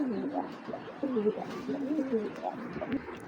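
A medium-sized female racing pigeon coos softly and close by in a few low, rolling phrases that run through the whole short stretch.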